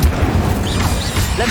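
A fiery Incendio spell is cast in the Hogwarts Legacy game, with a dense burst of whooshing, crackling combat effects and low booms, loud and continuous throughout.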